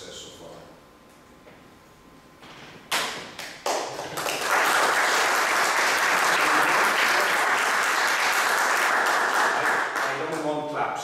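An audience claps after a conference presentation on training professionals: a few isolated claps come first, then full, sustained applause swells and holds loudly for several seconds before easing slightly.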